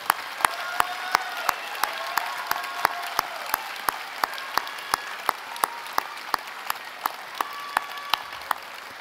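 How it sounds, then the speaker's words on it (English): A graduation ceremony audience applauds for graduates' families, a steady sustained wash of many hands clapping in a large hall, with sharp rhythmic thumps punctuating it throughout. "Hō mai te pakipaki mō tō whānau."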